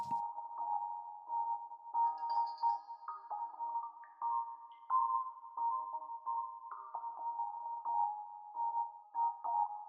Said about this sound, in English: that's going to help make those drippy droppy sounds sound a little bit more wet